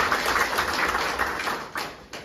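Scattered audience clapping at a political election rally in Burdur, a moderate pattering of many hands that rises and dips, with a few sharper claps standing out near the end.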